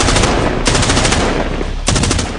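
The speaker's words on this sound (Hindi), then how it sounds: "एकाएक 3 गोलियों का राउंड सुनाई पड़ा" Gunfire heard before dawn, loud close bursts of rapid shots in three distinct rounds, each a sharp rattling volley, with no voices.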